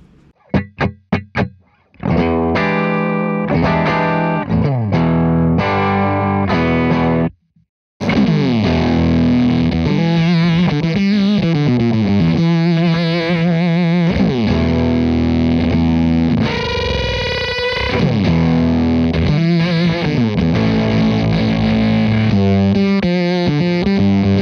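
Electric guitar, a Gibson ES335, played through a Sehat Effectors Blown Rite fuzz pedal. A few sharp plucked notes give way to thick, sputtering, heavily distorted chords and sustained bends, loud and close, with one brief pause.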